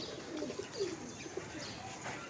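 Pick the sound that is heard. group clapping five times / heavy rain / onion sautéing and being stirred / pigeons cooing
pigeons cooing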